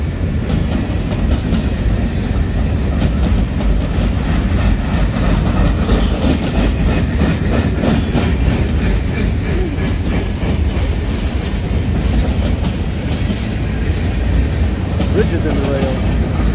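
Freight train hauled by GP38-2 and GP40-2WL locomotives picking up speed, a loud continuous rumble with rail clatter throughout, with occasional speech over it.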